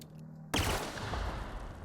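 Pistol gunfire in The Outer Worlds, a sharp close shot that follows a quiet hum and then rings out into a rolling echoing tail.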